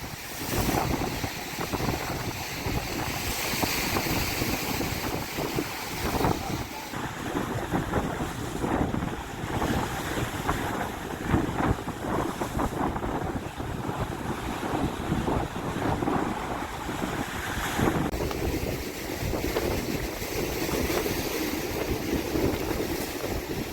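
Strong sudden wind gusting at Jaffna beach with sea waves breaking, a loud continuous roar buffeting the microphone with surging wash throughout.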